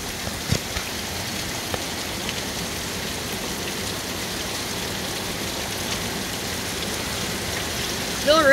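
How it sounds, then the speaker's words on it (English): Wind and rain storm outdoors, a steady broadband hiss of rain falling on surfaces with constant blustery noise, continuous and fairly loud, with a faint voice near the end. "It's quite windy and rainy today."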